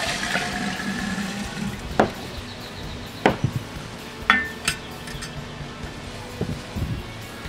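Sugar water is poured into a large drink jar, a running, splashing stream with several sharp knocks and clinks of the container, moderately close, and a little background voice.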